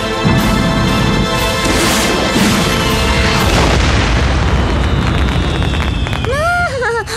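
A cartoon model rocket bursts in one huge, sustained booming explosion, loud and close, with crackling debris, rumble, then rising and falling whistling squeals near the end.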